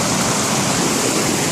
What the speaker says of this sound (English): It's just a beautiful creek too.